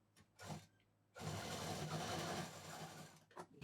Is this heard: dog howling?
no